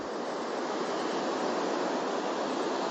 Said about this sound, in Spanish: Escuchad el sonido de este océano